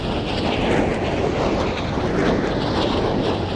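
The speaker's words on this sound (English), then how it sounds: "going up in the F-22 for the F-22 demo" A roaring, rushing jet noise from an F-22 fighter flying airshow demo practice fills the recording with loud, steady wind-like turbulence.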